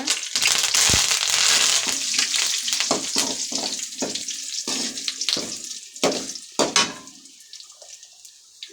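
Curry leaves hit hot oil in a pan for a fish curry, bursting into a loud crackling sizzle that fades into sporadic pops and spatters.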